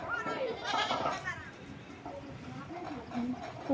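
Goats bleat a few times, fairly faint and nearby, while people talk outdoors in the background.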